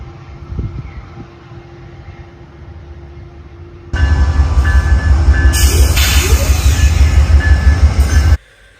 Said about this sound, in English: So this is what I am assuming is a P40DC, is the P40DC leader.